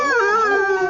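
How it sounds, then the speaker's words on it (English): A cartoon timber wolf howls in one long, wavering, sustained cry that bends slightly in pitch, loud and close, with no talking over it. "it was the dreaded timber wolf"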